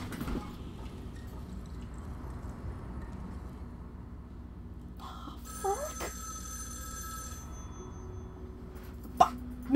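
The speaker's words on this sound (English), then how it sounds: "let's go get the phone instead. Let's answer the telephone." A telephone rings in an interactive game scene, a brief trilling burst rising out of a quiet background, followed by a faint click or knock near the end.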